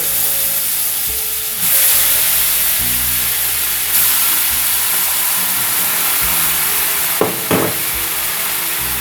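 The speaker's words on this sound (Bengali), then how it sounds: "বাটারটা মেল্ট হয়ে গেছে এর মধ্যে আমি চিকেনগুলো দিয়ে দেবো" About a kilo of chicken pieces sizzle in melted butter in a pan, a loud continuous close frying hiss with brief surges and stirring clatters, no voices.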